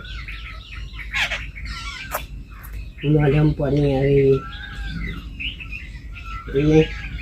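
Sparrows chirp and tweet in quick bright bursts, close by, while a person speaks in between the calls.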